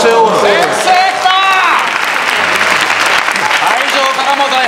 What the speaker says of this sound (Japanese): 会場からも大拍手